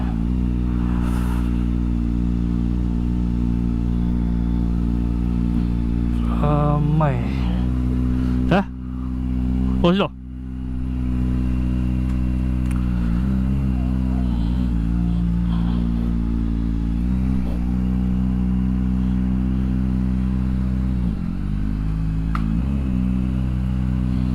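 Motorcycle engines idle and rev nearby as bikes arrive at a gathering spot, with rising and falling throttle bursts over a steady engine drone.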